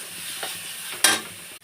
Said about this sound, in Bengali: দিয়ে মশলাটাকে কষিয়ে নেব।